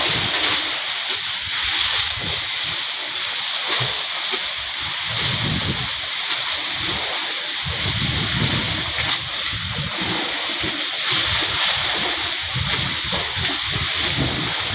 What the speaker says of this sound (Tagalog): Lakas pa ng alon kadagat dito sa gilid oh.